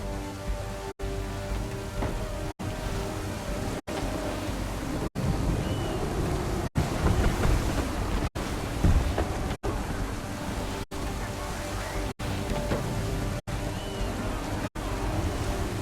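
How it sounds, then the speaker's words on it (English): Video game thunderstorm at sea in Assassin's Creed III: heavy rain and wind roar steadily over surging waves, broken by repeated abrupt cuts of near-silence at regular intervals. "There's a storm coming, Captain. Feels like a big one."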